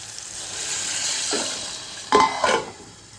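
Moong dal drops into a sizzling tempering with a steady hiss, then two sharp, loud bursts of crackling near the end as it hits the hot oil. No voices.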